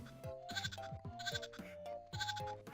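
Sheep in the Tap Rush mobile game bleat in quick repeated cartoonish calls, several wavering baa sounds in a row over a light game backdrop, clear and close.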